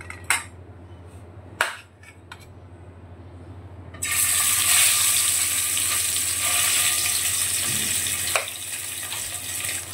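Bele fish is lowered into hot oil after a couple of sharp clinks, and a sudden loud, hissing sizzle bursts up and holds steady and close.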